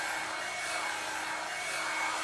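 A Revlon One-Step hot air styler blowing steadily while drying and curving the ends of hair, a close, constant whooshing motor hum with no talking.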